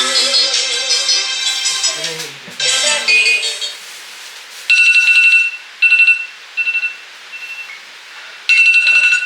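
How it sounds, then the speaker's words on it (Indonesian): Alarm clock goes off with a bright melodic tone at first, then shifts to a loud beeping in repeated bursts with short gaps between them. "Alarm cuy."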